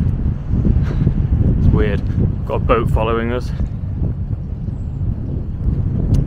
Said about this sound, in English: It goes all windy.